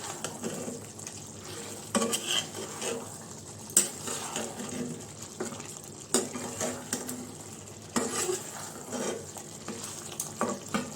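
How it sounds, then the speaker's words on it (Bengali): Meat being stirred in a hot wok, with a steady sizzle and sharp metallic scrapes and clanks of a spatula against the pan at irregular intervals. "তো এখন আস্তে আস্তে ভালোভাবে মিশিয়ে কষাবো"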